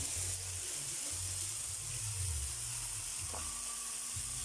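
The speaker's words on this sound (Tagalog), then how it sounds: "Lagyan na po natin yung giniling." Ground meat dropped into a hot pan with tomatoes sizzles and crackles steadily and loudly, close by, with a low rumble and faint clinks of stirring under it, no talk.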